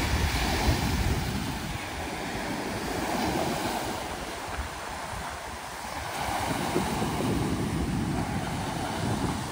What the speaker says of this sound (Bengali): এতটা হাওয়া এবং সমুদ্রের গর্জন সব মিলে অসাধারণ এক পরিবেশ।